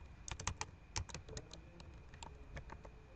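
Quiet, close typing on a computer keyboard while entering a spreadsheet formula, a quick irregular run of key clicks in short bursts with brief pauses.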